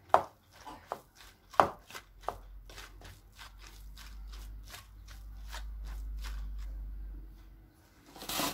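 Tuna kebab mixture mashed in a bowl with a masher, a run of soft, close, rhythmic thuds and squishes with a few sharper knocks, alone and without talk.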